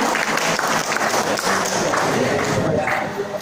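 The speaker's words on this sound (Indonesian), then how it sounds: "Kita tepuk tangan." Audience applause at a talk on reading in Surakarta, Central Java: a burst of clapping with uneven, slightly choppy texture that swells and thins across the few seconds.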